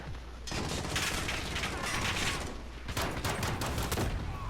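Rapid pistol gunfire from an M19 chambered in 9mm Parabellum in the Call of Duty: Modern Warfare video game, two dense bursts of loud, close shots separated by a short gap, with no voices.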